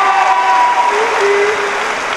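Audience at a high school graduation ceremony in Dunkirk, NY, applauding steadily for the class advisors, a dense, even clapping that fills the room for the whole stretch, with a faint voice or tone lingering underneath.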